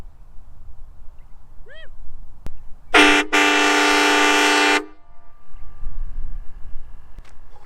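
A loud, sustained Hornblasters Katrina 544K vehicle air horn blast sounds for about two seconds, abrupt on and off, with quiet outdoor background before and after.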